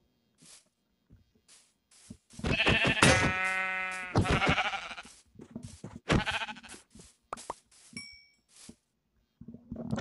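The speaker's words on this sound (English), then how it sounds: "Oh, and some more sheep." Sheep bleating in the Minecraft video game, with several short bleats close together and one longer drawn-out bleat, against mostly quiet gaps and soft game sounds.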